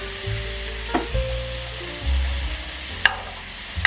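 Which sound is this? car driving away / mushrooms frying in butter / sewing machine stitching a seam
mushrooms frying in butter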